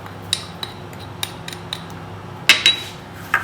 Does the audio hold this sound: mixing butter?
yes